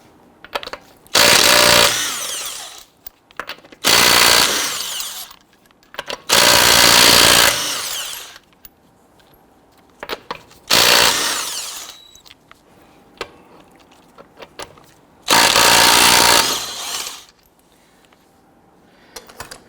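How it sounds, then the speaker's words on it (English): Power tool spinning off lug nuts with a 21mm socket on a 2006-2012 Toyota RAV4 wheel, five loud close bursts of whirring, each about two seconds, separated by short pauses. "Using a 21mm socket, we're going to loosen and remove the lug nuts."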